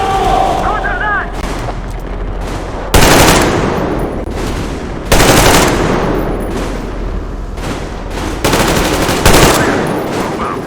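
Covering gunfire in the video game Metro Exodus, with sustained machine-gun bursts and repeated heavy shot blasts, loud and dense throughout, punctuated by sharper louder volleys.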